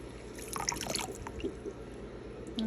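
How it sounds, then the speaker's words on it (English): Water poured from a container onto one cup of dry rice in a bowl, a soft irregular trickle and splash, close and fairly quiet, with no talking. "we're just going to add water"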